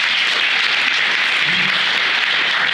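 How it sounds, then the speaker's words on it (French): Audience applause for the designer at the inauguration of a hearing-aid centre in Rumilly, a steady, even wash of many hands clapping at once, loud and unbroken. "Je vous remercie de l'applaudir."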